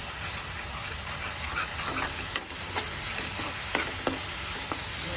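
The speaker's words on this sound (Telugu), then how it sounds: "ఈ అల్లం పేస్ట్ని మనం ఒకసారి కలిపేసుకుంటే" Ginger paste fries in hot oil in a pan with a steady, close sizzle, broken by a few light clicks and scrapes of stirring.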